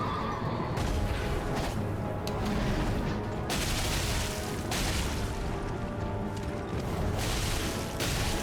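A horse in the game Elden Ring neighs and whinnies loudly amid dense, continuous in-game noise and impacts, with the sound staying strong and unbroken throughout.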